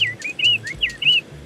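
A handmade, battery-operated toy bird at a handloom exhibition in Hyderabad gives a quick series of clear, whistly chirps close by, over a low background hum.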